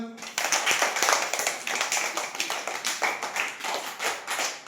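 A class of children claps in a room, with quick, uneven hands that rise and fall in bursts for several seconds while a voice speaks over them.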